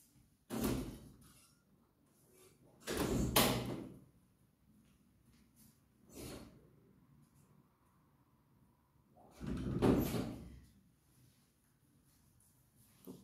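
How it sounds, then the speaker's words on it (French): A house door opened to let a cat in, several separate knocks and thuds of handling and latch movement spaced out over a quiet room, with near silence between them. "je vais ouvrir la porte au chat"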